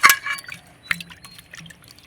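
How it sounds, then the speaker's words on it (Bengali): Peeled potatoes are washed and rubbed by hand in water, giving a sharp splash at the start, then scattered drips, trickles and soft sloshes close by. "এবার জলে আমি একটু ভালো করে ধুয়ে নেব হাত দিয়ে কুচলে কুচলে"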